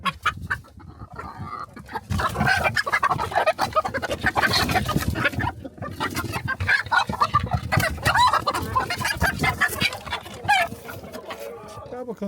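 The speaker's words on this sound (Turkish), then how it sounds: "Burada 3 tane tavuk, bir tane horoz bıraktım." Three hens and a rooster in a village coop cluck busily and close by, with dense overlapping calls throughout and a person talking now and then.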